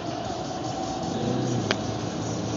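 A car engine hums steadily at a constant level while cruising on the Autobahn, with one brief sharp transient midway through. No clear rev change stands out.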